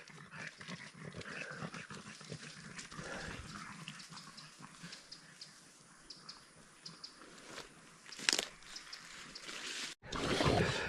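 Water splashing and trickling nearby in a stream, with scattered movement sounds from dogs and a brief louder splash near the end.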